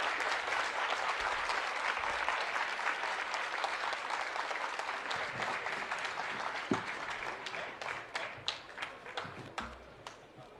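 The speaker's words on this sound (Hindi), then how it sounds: "जोरदार तालियों से स्वागत करें।" An audience applauds to welcome someone at an event hall, a dense sustained crowd clapping heard from a distance that thins into scattered individual claps near the end.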